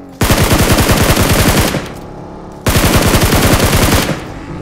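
Automatic gunfire from the mobile battle royale game BGMI, heard as two loud, close rapid bursts of shots of about a second and a half each, separated by a short gap.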